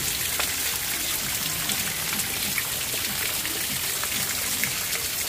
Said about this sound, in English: It is raining really bad.